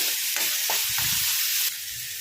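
Vegetables frying lightly in a pan for drumstick rasam, a steady close sizzle with a few stirring scrapes, brief and continuous with no talk.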